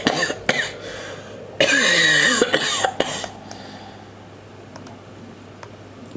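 A man coughs a few times, rough and close, followed by quiet clicks in the background.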